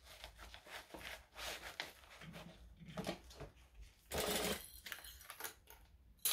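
A sewing machine stitches fabric in quick rapid bursts, close and fairly quiet, with short pauses between runs of stitching and a louder burst near the end.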